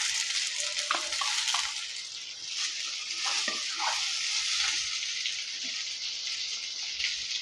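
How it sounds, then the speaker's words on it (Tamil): Okra with onion, green chilli and curry leaves sautés in a pan, giving a steady close sizzle with scattered soft taps and scrapes of stirring. "இப்போ வதக்கி வச்ச வெண்டைக்காயும் நம்ம சேர்த்துக்கலாம்."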